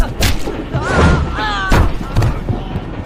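Fist fight impacts in an Indian film: a few heavy thuds and slams in quick succession, close and punchy, mixed with whooshes and brief voices.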